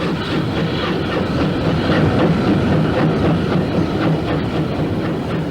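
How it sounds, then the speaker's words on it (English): A steam locomotive, British Railways number 30583, rumbles steadily past with a rhythmic clickety-clack of wheels and a heavy low engine drone, close and continuous. "so it was that Pat Whitehouse and John Adams came to film this extraordinary locomotive, kept in magnificent condition after a recent overhaul."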